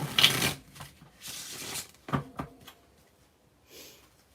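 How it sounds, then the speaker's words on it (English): Close, soft shuffling of a tarot deck: brushing card riffles and a few sharp taps in uneven bursts, fading to near silence, with no speech. "Get a good shuffle in there."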